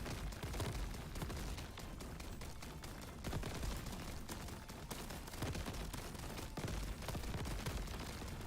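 Rapid bursts of video game gunfire, dense and continuous at moderate loudness, with a constant layer of game sound underneath.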